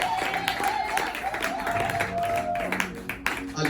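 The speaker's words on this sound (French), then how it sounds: "Est-ce que tu peux bien acclamer pour Jésus?" A church seminar audience applauds and cheers for Jesus, a sustained wash of clapping and crowd noise with a voice speaking over it.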